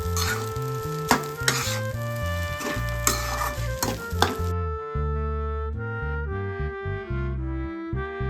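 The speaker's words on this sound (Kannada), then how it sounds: "ಸ್ವಲ್ಪ ಫ್ರೈ ಆಗಲಿ ಅದು, ಅದಕ್ಕೆ ಇನ್ನೊಂದು 2 ನಿಮಿಷ ಹಂಗೆ ಬಿಡಿ." Egg rice frying in a pan, a loud close sizzle with stirring scrapes and clinks of a utensil, its hiss cutting off partway through while the clatter carries on, no speech.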